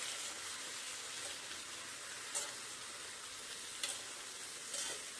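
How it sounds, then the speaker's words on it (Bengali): Vegetables frying in hot oil with cumin, an even sizzle close by with a few sharp stirring clatters spaced through it. "এই তেলের ভিতরে সবজিগুলো সব দিয়ে দিব। দিয়ে ভালো করে একটু ভেজে নেব সবজিগুলো।"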